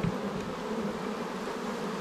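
Honeybees swarm around an opened hive box while a beekeeper works on it, making a dense, steady close-up buzz that holds without pause, no talk.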